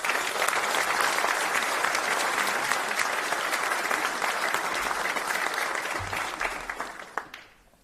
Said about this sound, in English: Please join me in giving these individuals a well-deserved round of applause.